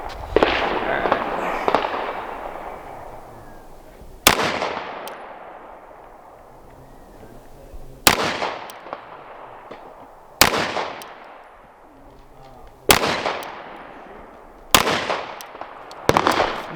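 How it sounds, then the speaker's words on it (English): Rock Island Armory 1911 pistol shots at a range, about six loud sharp reports spaced a few seconds apart, each with a long ringing decay, the first merging into a noisy stretch. "now I'm gonna take and shoot the Rock Island Armory"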